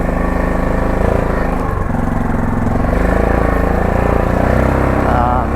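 A 2002 Yamaha Grizzly 660 ATV engine runs loud and close during a test drive, a continuous rough mid-pitched drone that dips briefly, then steadies and slightly revs near the end.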